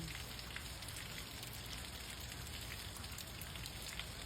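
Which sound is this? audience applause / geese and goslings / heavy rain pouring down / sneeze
heavy rain pouring down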